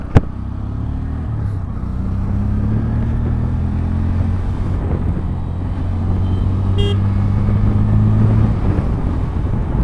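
Steady, loud road-vehicle engine drone with a low, sustained hum rising slightly in pitch, a new Yamaha R15M motorcycle riding along the road ahead; no talking.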